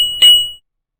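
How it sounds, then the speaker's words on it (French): A single bright bell strike in a children's word game rings out clearly, its pure tone sustaining briefly before decaying to silence. "Au son de la cloche"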